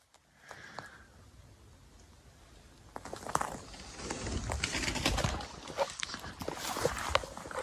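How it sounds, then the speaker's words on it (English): Birds burst into flight in the woods, a rising flurry of flapping wings and rustling that grows louder and denser after a quieter start, with a few scattered calls. "When the birds just take off, you just don't expect it"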